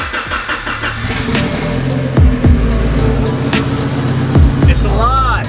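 A Mitsubishi Evo with a big turbo cranks and fires up for the first time, then settles into a loud, rough idle punctuated by sharp revs that rise and fall several times, close to the car.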